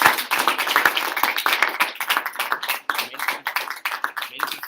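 A small audience claps after a lecture on The Screwtape Letters. The distinct, fairly close claps run irregular and lively throughout, with no talking.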